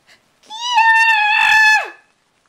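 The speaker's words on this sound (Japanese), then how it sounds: "というものすごい絶叫が聞こえた。" Horrific scream of a woman in a Japanese horror story narration, a single loud, high-pitched shriek held for about a second and a half before sliding down and cutting off.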